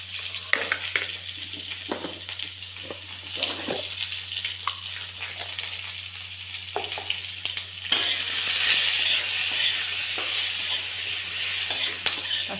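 Masala spices with sesame seeds and poppy seeds roasting and being stirred in a hot pan for chicken masala, a steady close sizzle with scraping stirs that grows louder and denser partway through.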